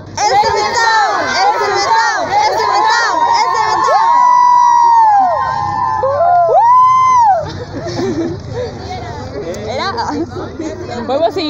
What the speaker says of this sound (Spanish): ¿Vamos a seguir gritando?